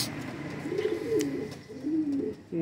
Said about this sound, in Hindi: अब ये कबूतर है